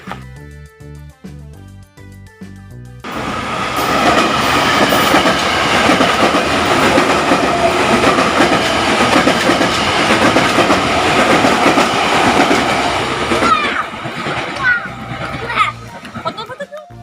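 A train rumbles past close by, loud and steady with rhythmic clattering of wheels, for over ten seconds before fading; faint voices around it.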